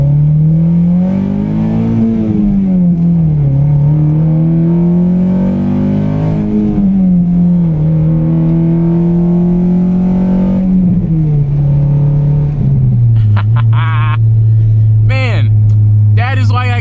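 A Honda K-series four-cylinder car engine revs hard through a pull, its loud, steady drone climbing and dipping with gear changes before sharp rising whines near the end, with a voice talking over it.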